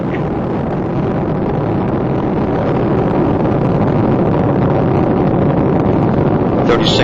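Space Shuttle Discovery lifting off on the STS-124 launch, its three liquid-fuel main engines producing a loud, continuous, dense broadband roar that holds steady and grows slightly stronger throughout.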